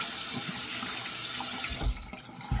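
Water runs from a sink tap to rinse off after a shave, a steady close hiss and splash that thins out near the end, with a few knocks under the flow.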